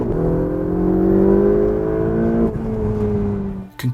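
Ferrari 488 GTB engine accelerating hard, a loud rising howl that climbs steadily, drops briefly at a gear change, then pulls on again before fading near the end.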